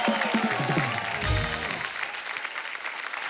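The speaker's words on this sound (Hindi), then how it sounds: "जोरदार तालियां हो जाए एक बार" Studio audience applause breaks out on a Hindi television comedy show, a burst of clapping that swells and then tapers off beneath lingering music and voices.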